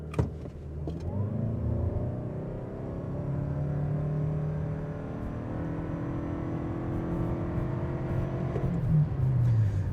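A 2025 Toyota Crown Nightshade AWD hybrid sedan in sport mode launches hard from a brake-torqued standstill with traction control off, its engine and electric motor whine rising steadily and loud through a full 0-to-60 run.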